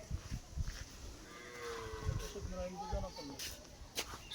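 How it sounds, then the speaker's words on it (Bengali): Cattle at a rural Bengali market selling cows for Qurbani, lowing a few times amid a busy outdoor background, with people talking nearby. "এই আমাদের এই হুজুরের গরুগুলা"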